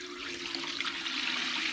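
Water pours steadily into a container to dilute Purple Power cleaner, a continuous splashing hiss that stays even and close for the whole moment.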